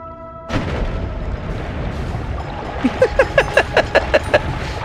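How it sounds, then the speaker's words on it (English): Explosive sand detonating in the video game Noita: a heavy boom starts a rumbling bed, then a rapid string of about eight sharp popping blasts rings out at an even rhythm near the end. "Be careful, there's explosions in the sand"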